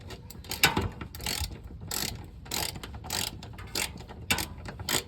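Ratchet wrench clicking in quick bursts while tightening a 10mm bolt on a new bracket during gearshift cable work on a 2002 Infiniti QX4, several separate runs of close, crisp ratcheting with short pauses between.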